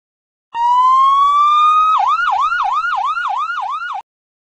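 A fire truck siren wails loudly on its own, opening with one long rising tone and then switching to a rapid, steady yelp that repeats several times before cutting off.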